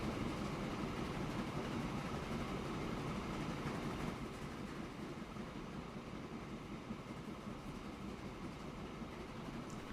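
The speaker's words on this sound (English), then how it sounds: "One train taking too long now." Steady rumble of a train running in a railway-building video game, a continuous broadband rolling noise that holds level throughout with no talking.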